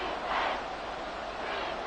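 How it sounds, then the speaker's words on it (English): Steady, diffuse roar of a dome stadium crowd in a Madden football video game, moderately loud and continuous with no distinct voices standing out. "The crowd here in the dome making things difficult."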